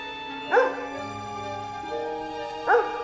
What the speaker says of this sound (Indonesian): Pongo kemudian pergi ke atas rumah dan mulai menggonggong.